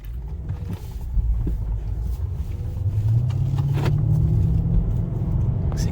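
2007 Mercedes-Benz E550 with a V8 pulling out of a driveway onto a two-lane road, a deep engine rumble building into a rising, sustained acceleration drone, close and with no talk.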